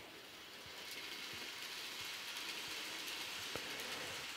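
A Kato model train running along layout track, a faint continuous whirring rumble with soft periodic clicks from rail joints, steady and without voices.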